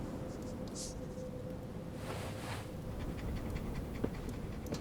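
A dog pants steadily in a snowy Alaskan hunting game, its quick breaths soft and continuous under a constant wash of wind-like ambient noise, with a faint tick near the end.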